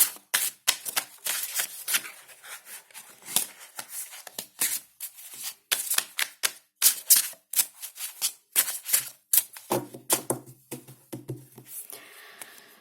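Rapid papery riffling and soft slaps of tarot cards being shuffled, repeating in quick bursts for several seconds, close and fairly quiet.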